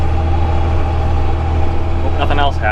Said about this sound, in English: Tractor's running good for now, I suppose.